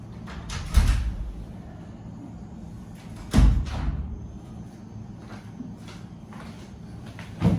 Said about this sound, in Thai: ทีแรกคิดว่าห้องเราเพราะว่าเสียงเคาะมันเหมือนกันหมดเลยนะคะ